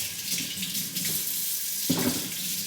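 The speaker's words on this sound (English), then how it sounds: "I'm gonna wash my hands." Tap water runs steadily into a kitchen sink while hands are washed during home cooking of spaghetti meat sauce, a continuous close hiss that swells briefly with splashing near the end.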